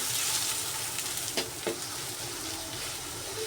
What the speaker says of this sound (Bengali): বেগুনটাকে সুন্দর করে ভেজে নিব আমি, লাল করে একদম